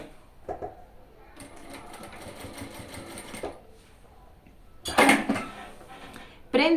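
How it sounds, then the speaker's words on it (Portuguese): Sewing machine running a safety seam on a lunch bag strap, two bursts of steady whirring stitching separated by handling clatter, with someone talking faintly between them. "vou passar a minha costurinha"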